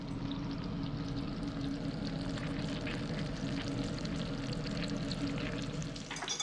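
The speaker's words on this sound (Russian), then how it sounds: "Жарим до готовности." Perch fillets fry in a hot pan, giving a dense, steady sizzle and crackle throughout, close and fairly loud with no pauses.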